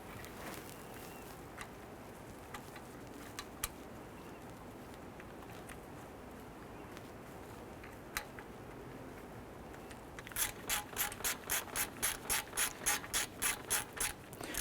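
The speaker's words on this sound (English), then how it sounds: "Install and tighten the dipstick tube bracket bolt." Ratchet tightening the dipstick tube bracket bolt on a 2012-2017 Toyota Camry: a close, steady run of about a dozen crisp clicking strokes in the last few seconds, after a quiet stretch of faint workshop handling noises.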